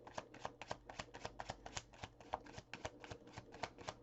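Tarot cards being shuffled in quick, rhythmic riffling bursts, crisp and close, repeating steadily throughout with no voices.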